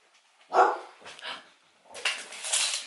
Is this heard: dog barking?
yes